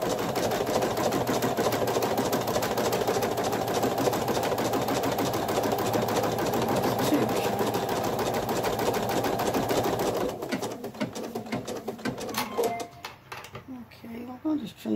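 A Viking Designer embroidery machine stitches minky fabric held in a 180x130 magnetic hoop. Its steady, dense whirring runs loud and close for about ten seconds, then stops, leaving quieter scattered sounds.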